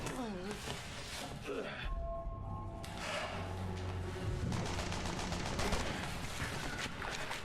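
Gunfire from the Resident Evil 6 co-op Chris chapter, rapid shots and bursts layered under steady music and game sounds, with voices talking over much of the action.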